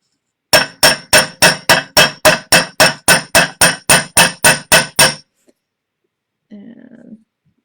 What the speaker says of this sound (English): you're going to need to hammer down the ends.